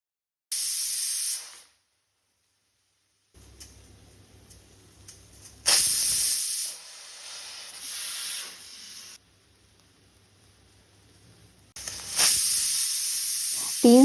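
Loud bursts of hissing steam from a pressure cooker come and go several times, separated by quiet gaps with a low hum in between.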